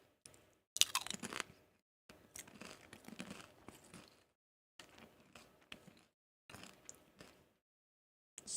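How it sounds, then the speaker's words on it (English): Salt and vinegar potato chips crunched and chewed up close in several separate bursts with quiet pauses between, crisp crackling bites and chewing. "more chip mukbang"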